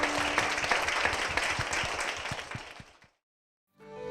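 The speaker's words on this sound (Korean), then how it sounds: "주님께 큰 영광의 박수를 드리겠습니다" Church congregation applauding: dense, loud clapping for about three seconds that tapers off, followed by a short silence before other sound begins.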